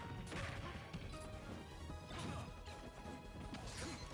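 A grenade explodes in Super Smash Bros. Ultimate during a tournament match between Snake and Wolf. It comes as dense, loud crashing blasts that repeat over a continuous game soundscape.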